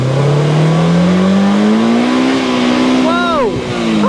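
A Polaris Slingshot three-wheeler accelerates hard, its engine note climbing steadily and loud up close, with a brief whine and wobble as the single rear tire struggles for grip; someone talks over it.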